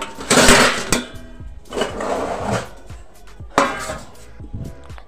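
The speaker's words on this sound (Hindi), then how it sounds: "पहले खाना निकाल लेते हैं बर्तन" Metal dishes and pots clinking and scraping while food is served at home, several sharp clattering bursts with quieter handling between, close and loud with no talk.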